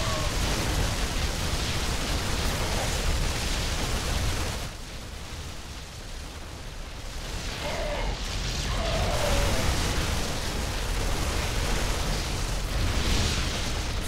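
Explosions as interceptors are shot down in StarCraft 2, a continuous roar of blasts and crackling bursts with a brief dip midway before the rumbling barrage swells again.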